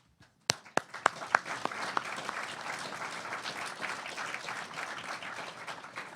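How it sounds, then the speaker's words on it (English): An audience at a general election debate bursts into applause, a few sharp claps at first swelling into sustained, even clapping from a room full of people. "We can all applaud these individuals sitting in front of you."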